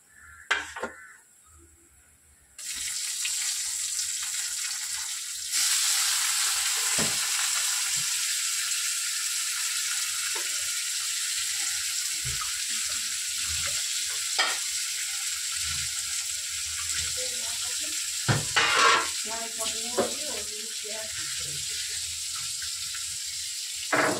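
Chopped onion and green chillies hit a hot pan, setting off a sudden steady sizzle that runs throughout, with a few utensil clinks and scrapes near the end.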